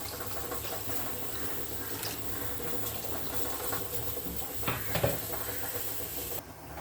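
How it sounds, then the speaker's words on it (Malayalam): Water poured into a Kerala fish curry in a home kitchen, a steady hissing, splashing flow that runs for several seconds, then cuts off near the end. "ഇതിലേക്ക് ആവശ്യമുള്ള, നിങ്ങൾക്ക് ഇഷ്ടമുള്ളത്രോളം വെള്ളം ചേർക്കുക"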